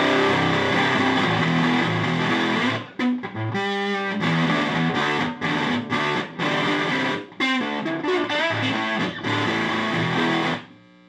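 Electric guitar driven through an overdrive pedal into a Blues Deluxe-style amp, played loud and gritty with sustained distorted chords, then choppy stabs and short bursts separated by brief gaps, with no talking.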